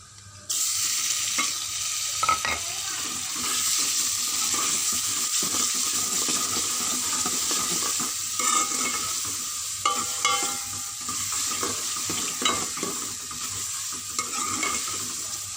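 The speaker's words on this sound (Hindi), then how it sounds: "टमाटर को हम अच्छी तरह पकाएंगे, अच्छी तरह से फ्राई कर लेंगे" Three chopped tomatoes fry in a pan for a ridge gourd curry, giving off a steady close sizzle with intermittent scraping and stirring clinks. No one speaks over it.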